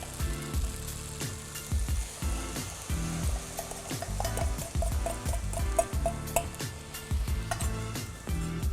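Soy sauce, water and brown sugar hit a hot pan over high heat, bursting into loud sizzling frying with repeated stirring scrapes and clinks of tongs in a steady rhythm, close up with no talk.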